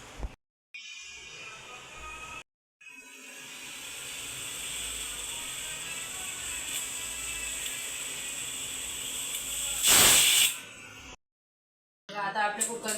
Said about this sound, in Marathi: 3 शिट्ट्या आपल्याला काढून घ्यायच्या कुकरच्या.